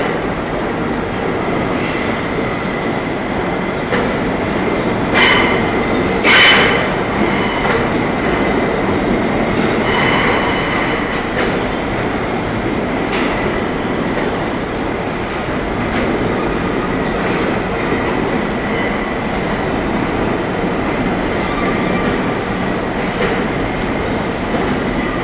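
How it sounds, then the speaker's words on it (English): An out-of-service R62A subway train runs through an underground station without stopping, a long continuous rumble with clickety-clack of wheels and brief sharp squeals, loud and close throughout, with no voices. "this train right here, like the R62A, is not in service"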